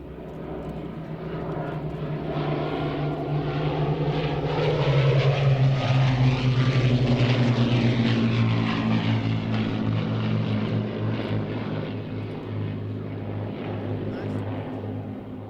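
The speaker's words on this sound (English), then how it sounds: "you see that as the aircraft flies past" A propeller aircraft flies past at the Waddington airshow, its loud droning engine note swelling as it nears and shifting pitch as it passes, holding strong throughout with no speech.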